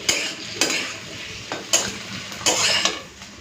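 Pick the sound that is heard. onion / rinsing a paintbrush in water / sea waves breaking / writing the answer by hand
onion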